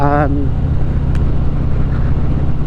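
Idling 2021 Harley-Davidson Sport Glide motorcycle with an aftermarket exhaust, a steady low throaty rumble that runs loud and close throughout, with a brief rising tone at the start.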